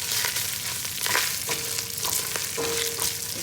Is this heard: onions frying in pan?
yes